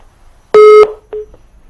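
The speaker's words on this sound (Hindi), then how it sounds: "फोन जो है वो डिस्कनेक्ट हो गया है।" Electronic telephone line tones sound as a phone call disconnects: a loud steady two-tone beep lasting about a third of a second, then a shorter fainter beep and a brief trailing blip against near silence.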